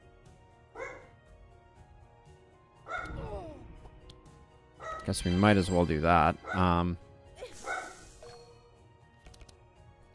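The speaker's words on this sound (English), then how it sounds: "Pupper is barking, but that's okay." A dog barks several times in a quick cluster from across the room, with a voice talking before and between the barks.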